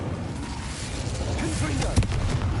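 Fire spell cast in the Hogwarts Legacy video game: a dense, roaring rumble of fiery game effects that swells steadily, with a sharp burst near the end, loud and continuous.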